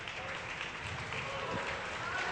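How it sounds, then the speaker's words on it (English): Crowd applauding both players at a racquetball semifinal, a steady wash of clapping that runs continuously beneath a commentator's voice. "And the crowd giving both players a hand."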